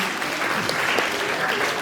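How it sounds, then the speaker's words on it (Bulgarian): Steady applause from an audience at a quiz game event, dense clapping filling the whole stretch at an even level, with no break in the sound. "Аплодисменти."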